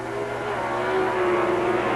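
Pro Stock drag race cars, a Plymouth Volare and a Plymouth Arrow, at a 1979 NHRA national event in Baton Rouge, roar down the track in a loud, steady engine howl with a rising tone, heard alone without talk.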